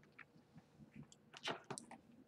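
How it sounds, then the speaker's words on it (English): Someone bites into and chews a Snickers bar up close, with a run of soft, moist crunches and mouth clicks that build to a louder burst of chewing partway through. "I'm going to chew."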